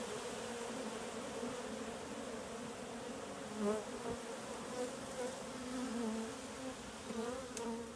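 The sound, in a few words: honey bees buzzing around hive box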